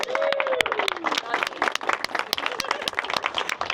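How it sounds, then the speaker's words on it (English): At a photography symposium, a crowd applauds for a dancer with sharp, close individual claps standing out over a dense background of clapping and some voices, continuing throughout. "How about a round of applause for Chelsea?"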